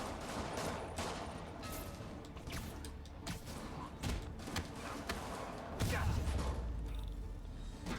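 Rockets and explosions tear through a combat scene in Marvel's Spider-Man, a dense barrage of overlapping blasts, thuds and whooshes rolling on without a break, with heavier booming hits late in the stretch.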